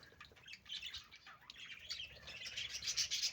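Pet canaries and quails giving busy chirps and squawks, bright overlapping calls growing livelier toward the end, fairly faint and close.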